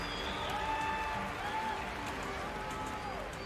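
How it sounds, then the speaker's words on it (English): A crowd cheers and applauds at the Bethesda E3 livestream, a continuous moderate wash of clapping and cheering, heard at some distance with faint tonal sounds drifting over it. "Why are people still cheering about this shit?"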